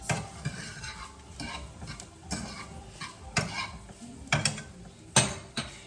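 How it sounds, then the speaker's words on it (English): Meat stirred as it fries in a pan, with repeated scraping strokes and clinks of a utensil over a steady sizzle, close and fairly quiet, no talking. "Just gonna stir up my meat."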